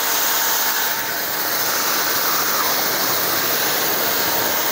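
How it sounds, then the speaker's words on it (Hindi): A STARQ ST2400U pressure washer with hose reel sprays water onto a scooter, giving a steady, loud, broadband rushing hiss that holds constant throughout with no talking. "पानी क्यों मारना है क्योंकि जो भी लगा हुआ डिटर्जेंट है फोम है वो पूरी तरह"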